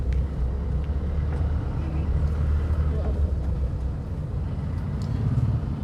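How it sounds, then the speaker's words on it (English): A manual car driven slowly in second gear through heavy traffic gives a low, steady engine and road rumble from inside the cabin, with someone talking over it. "I have downshifted into second, slowly release the clutch, gently give a gas."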